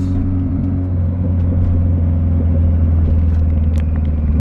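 Mitsubishi Eclipse 2G running steadily while driving, a loud continuous engine drone with deep low rumble and slight shifts in pitch, heard from inside the car with no talking.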